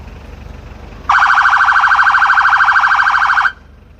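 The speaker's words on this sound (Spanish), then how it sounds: "Tenemos el tercer tono, es un tono de intermitencia" Ambulance siren sounding its intermittent third tone, a loud, rapidly pulsing wail that starts abruptly, runs steadily for over two seconds and then cuts off, with quiet background before and after.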